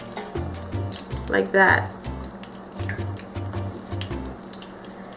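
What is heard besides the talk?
chile relleno pepper frying in pan after being flipped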